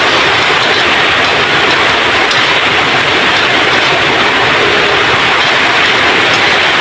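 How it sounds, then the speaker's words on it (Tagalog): Very heavy rain pouring down in a loud, continuous hiss and roar without any letup, and no voices on top of it. "Sobrang lakas po ng ulan."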